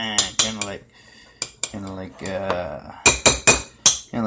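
A metal spoon repeatedly strikes and scrapes a bowl while chopping drained canned tuna for tuna salad, producing bright, ringing clinks in irregular bursts with short pauses between them.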